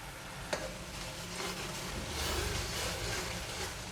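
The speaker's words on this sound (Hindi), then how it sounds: "टमाटरों को हमने अच्छी तरह भून लेना है" Tomato paste and spices sizzling in a pan for maash daal, a steady close-up frying hiss with a few stirring knocks, continuous throughout.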